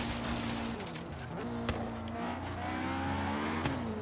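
A turbocharged Honda S2000 in Forza Horizon 3 revs hard while drifting, a loud continuous engine note rising and holding near redline with small dips and a brief tire squeal, heard alone.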